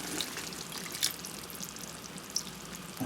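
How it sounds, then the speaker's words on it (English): A cup of water poured into a pot of simmering mutton curry gives a soft, steady splashing hiss with faint sizzling, quiet and close. "so I'll add some water"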